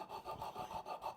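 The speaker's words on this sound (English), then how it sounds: "I've wrapped a bit of paper around it, and I'm just helping to smooth out those lines" A carved wooden bowl is smoothed with wrapped sandpaper in quick rhythmic back-and-forth strokes, about six passes, faint and close with a soft scratchy rasp and no talking.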